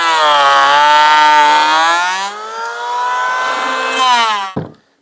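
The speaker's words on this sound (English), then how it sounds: "So let's see how we go with planing this down first." Planing down a twisted wooden board produces a loud, steady, whining tone that runs for about four and a half seconds, dips briefly midway, then cuts off abruptly.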